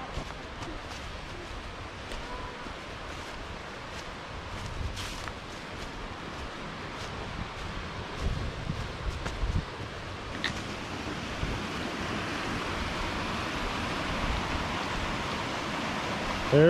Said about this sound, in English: This area is called the Rapids of the Sipsey Fork.